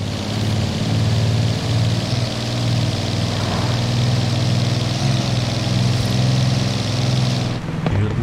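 A large engine from Forza Horizon 4 runs steadily throughout, a loud low idling drone with constant rumbling harmonics and no pauses, cutting off abruptly near the end.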